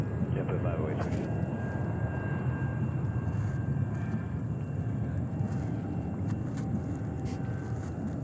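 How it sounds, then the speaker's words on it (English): At JFK airport in New York, a jet airliner rumbles steadily down the runway on its takeoff roll, a broad, continuous engine roar, with radio voices talking over it. "runway 22 right, clear for takeoff"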